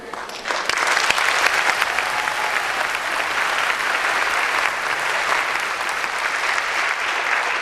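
Sustained, dense audience applause at a gospel mission dental benefit show, a steady loud wash of many hands clapping from start to finish with a little crowd noise mixed in.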